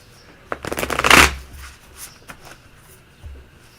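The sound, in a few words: shuffling tarot cards for a one card pull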